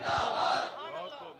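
A crowd at a religious gathering shouts a slogan in unison, a loud, brief massed chant of voices that fades slightly toward the end.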